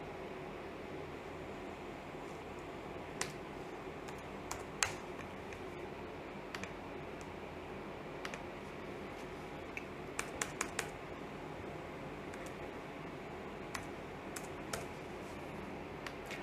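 Keys tapped on a computer keyboard while entering test ID numbers into a COVID test payment form, scattered light clicks in short irregular bursts over a quiet room hum, with no talking.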